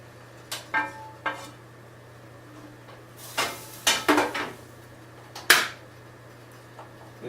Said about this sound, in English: We're going to add it to our crock pot.